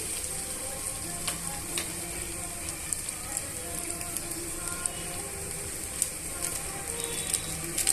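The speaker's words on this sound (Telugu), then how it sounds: "ఎండుమిరపకాయలను కరివేపాకుని యాడ్ చేసుకున్న తర్వాత ఇవన్నీ కూడా బాగా మిక్స్ చేసుకోవాలండి" Dried red chillies and curry leaves sizzle and crackle steadily in hot oil as they are stirred, with a dense continuous frying hiss and occasional sharp pops.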